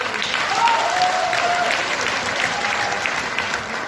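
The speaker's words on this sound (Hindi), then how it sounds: "सर के लिए ताली बनती है जबरदस्त तरीके से।" An audience at a network marketing seminar gives a strong, continuous round of applause, dense clapping that holds evenly throughout.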